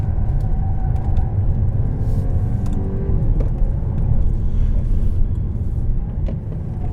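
Heard from inside the cabin, a 2016 Jaguar XF 35t R-Sport drives a twisty road in dynamic mode, giving a loud, steady engine drone and road rumble that swells slightly as it accelerates through the bends.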